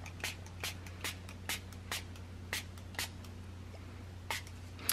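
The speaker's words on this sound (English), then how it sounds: "and then I'm gonna spray this one over here." A spray bottle of homemade distress ink spritzes in quick, short bursts, about a dozen sharp hissing puffs close by and fairly quiet over a steady low background hum.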